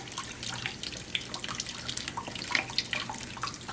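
Running tap water splashes into a sink, a soft, close stream of irregular gurgles and drips that stays fairly quiet throughout.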